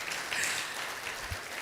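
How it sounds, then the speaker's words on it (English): An audience at an investment forum applauds, a dense wash of many hands clapping steadily at moderate volume without breaks. "Clap if you're his friend."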